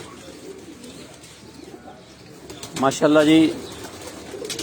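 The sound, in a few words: breeder pigeons cooing on a rooftop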